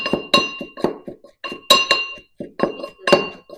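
Coconut chili sambal with chili, onion, salt and curry leaves pounded in a mortar in a village kitchen in Kilinochchi, heard as a run of sharp, close clinking thuds in an uneven rhythm with short pauses between strikes.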